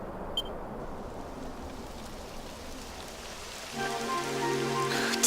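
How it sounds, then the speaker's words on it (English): Steady rain from a Dragon Quest XI game scene, a dense hiss of falling drops that swells louder near the end as a tonal music layer joins in. "It would have to go and start raining, wouldn't it?"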